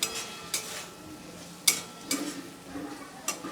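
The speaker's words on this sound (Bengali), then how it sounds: "আমি ভেজে রাখা আলুগুলো দিয়েও একটু মশলার সাথে ভালো করে কষিয়ে নেব" Fried potatoes being stirred with spices in a pan for a cabbage and prawn dish: intermittent sharp spatula scrapes and knocks against the pan over a faint sizzle.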